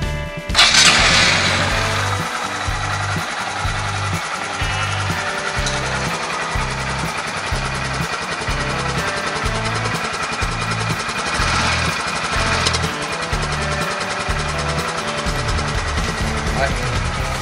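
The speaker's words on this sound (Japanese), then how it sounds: "マフラーも、純正マフラーがついてて音は静かです。" A flood-damaged Honda Grom motorcycle with its stock exhaust starts up and settles into a steady, quiet idle, its low, even pulsing close by and continuous.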